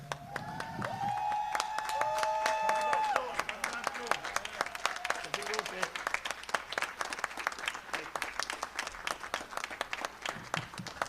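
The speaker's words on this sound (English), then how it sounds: "we stand up and we clap for Dr. Dorn" An audience at a spring performance applauds Dr. Dorn with steady, sustained clapping that carries on for about eleven seconds, while a voice speaks over the start.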